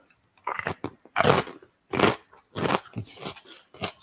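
Loud, close crunching as someone bites into crisp cooked pork belly crackling, with about six sharp bursts in an uneven chewing rhythm and no talking.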